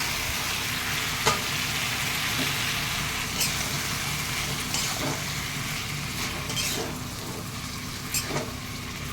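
Small kachki fish hitting a pan of cooked-down spice masala bring a low, continuous sizzle and frying hiss, broken by occasional clinks of a spoon. An engine-like rumble runs faintly underneath, and no one speaks.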